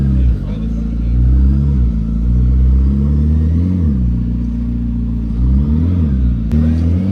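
McLaren P1 GTR supercar on a road, its engine droning loudly and steadily with rising and falling revs, close and prominent, while people talk over it.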